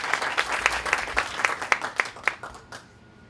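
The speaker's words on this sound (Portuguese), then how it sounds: "peço uma salva de palmas" Audience applause as a speaker is called to the stage, with distinct rhythmic claps, moderately loud, tapering off and fading to quiet by the end.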